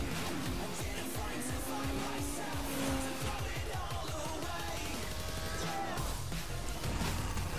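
Engines rev and whine steadily as cars speed along in the racing video game Onrush, with occasional skids and impacts over a loud, continuous background.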